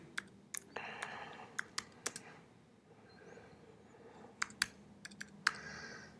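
Fingers tap on a computer keyboard to enter details into an online scheduling form. The keystrokes come in quick irregular bursts of sharp, close clicks separated by short quiet pauses.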